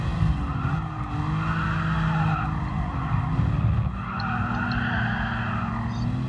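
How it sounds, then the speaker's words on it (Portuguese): Car tires squeal on asphalt in Gran Turismo Sport over a continuous engine drone. Wavering, whining skid tones rise and fall through most of the stretch, loud and close, with no talking. "Pneu range no asfalto."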